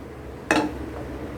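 A cooking vessel set down on a stove burner while making Maharashtrian kothimbir vadi, giving one short metallic clank with a brief ring, close and clear, then quiet.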